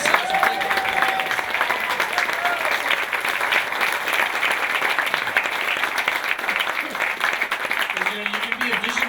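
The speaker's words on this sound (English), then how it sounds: "Come on, guys, give yourselves a big round of applause." A conference crowd on the Bosnian pyramids gives sustained, loud applause, dense clapping holding steady for about nine seconds while a voice talks faintly over it near the end.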